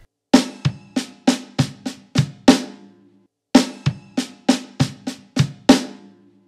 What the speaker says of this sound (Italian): usare solo la mano sinistra sul rullante per eseguire questi sedicesimi